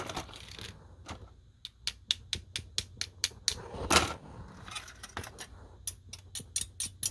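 Quick clicks and light rattles of styrene plastic model kit parts come in a loose, uneven series of sharp ticks, with a brief louder clatter midway, fairly close.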